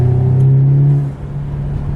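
A loud Audi S3 fitted with a carbon fiber air intake accelerates hard, its engine note rising in a steady, strong drone that holds for about a second before easing slightly and continuing as a rumbling hum.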